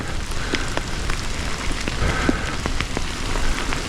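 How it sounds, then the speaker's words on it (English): Steady rain falls outdoors at a riding spot during an electric unicycle ride, a dense continuous hiss with scattered close drop taps and no voices. "Raining."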